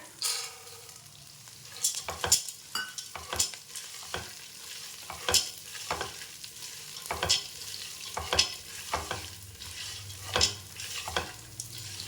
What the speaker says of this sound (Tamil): நல்லா ஓரளவுக்கு வறுத்துக்கோங்க. சிம்லேயே வச்சு நல்லா வறுத்துக்கோங்க.